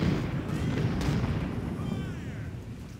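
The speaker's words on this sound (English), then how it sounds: "actually we're getting some really good shots on the Anacostia" Artillery firing at ironclad warships in the Civil War strategy game Ultimate General: Civil War, heard as a steady dense rumble of distant booms and bursts layered into continuous low battle noise.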